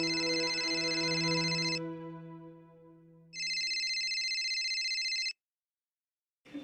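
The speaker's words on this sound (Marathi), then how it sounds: "अगं आनंदी, फोन वाजतोय तुझा, उचल ना" A mobile phone rings in a home: two long electronic ringtone bursts with a pause between them, each a steady bright tone, moderately close and with no voices.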